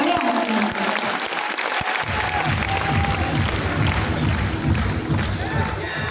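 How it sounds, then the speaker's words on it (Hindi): An audience at a stadium event clap and cheer loudly, a few sharp isolated claps swelling into dense continuous applause with crowd noise and voices underneath. "इनके लिए भी जोरदार तालियां ना"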